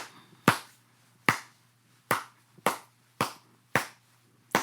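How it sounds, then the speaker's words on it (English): Hands clap out an African rhythm, seven sharp, crisp claps in an even, spaced pattern, close and dry with near silence between them. "Can you just clap out what that rhythm would be like?"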